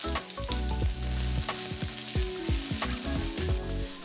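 Vegetables frying in a good glug of hot oil in a pan, a steady loud sizzle with crackles and stirring clatter throughout, no voices.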